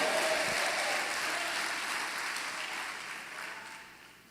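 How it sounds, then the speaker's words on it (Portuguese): A church congregation applauds the Lord in a steady wash of clapping that starts fairly loud and gradually fades over a few seconds, with no talk over it. "Dá uma salva de palmas ao Senhor."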